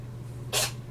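A pet gives a single short, sharp sneeze at moderate distance over a steady low background hum, with no talking.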